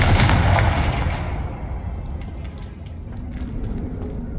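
A Confringo fire spell from Hogwarts Legacy explodes in a loud, booming blast that fades into a rumbling tail, with faint crackles after.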